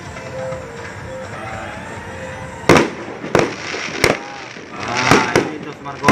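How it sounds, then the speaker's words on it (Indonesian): New Year fireworks bursting over the Presidential Palace in Malabo: a steady crackling din, then about six sharp loud bangs spaced roughly a second apart, with background crowd and voices talking. "Pesta kembang api. Guys, Di Istana Presiden."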